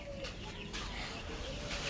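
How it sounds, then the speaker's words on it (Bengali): Farm chickens in a cage giving short soft clucks and murmurs, close by over a low background hum, with some voice nearby. "এই খাঁচার ভিতরে আমার ফার্মি মুরগি আছে।"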